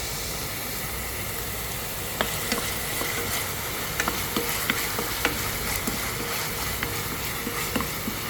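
Chicken being sautéed in a pan, a steady soft sizzle with occasional light scraping and stirring clicks, fairly quiet and without talk.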